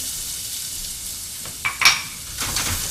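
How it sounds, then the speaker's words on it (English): Onion sweating in a pan as the base for a mushroom stock, giving a soft, steady sizzle with a few brief clinks and stirring scrapes near the middle. "And we're going to sweat some onion."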